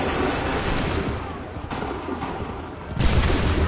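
Massed musket volley in Assassin's Creed 3, dense crackling gunfire and booms filling the whole stretch with a heavier burst near the end, no pauses between shots.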